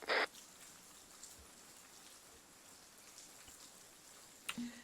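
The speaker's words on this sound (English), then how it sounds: "It's weird just watching the rain splatter against my helmet." Rain pattering on a soldier's helmet in the ARMA 3 military game, a quiet steady patter of drops with a few sharper knocks at the start and end, heard alone without talk.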